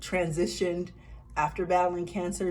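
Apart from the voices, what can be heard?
No everyday noise stands out behind the speech.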